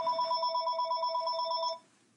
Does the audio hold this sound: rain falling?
no